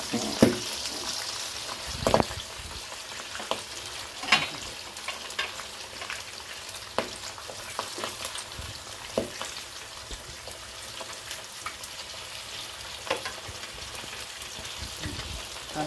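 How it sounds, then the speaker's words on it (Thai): Battered fish frying in hot oil for a Thai herbal pad cha stir-fry, a steady moderate sizzle with scattered pops and crackles throughout, no talking. "ปลาชุบแป้งทอดแล้วเอาไปผัดชา"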